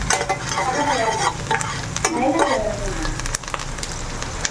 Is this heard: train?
no